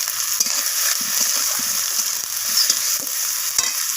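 Spices stir-fry with onions and tomatoes in a pan, giving a continuous sizzling hiss broken by frequent scraping stirs and light clinks of a spatula. No one speaks.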